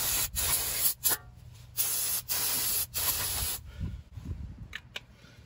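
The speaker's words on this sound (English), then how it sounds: "We're going to take our brake cleaner," Brake cleaner is sprayed onto the front brake caliper of a 2014 Toyota Tundra in several loud, close hissing bursts of about a second each, followed by softer rubbing and clattering.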